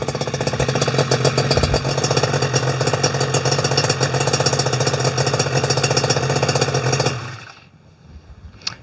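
A Yamaha Banshee two-stroke ATV engine idles close by with a loud, steady, rattly buzz before abruptly shutting off near the end.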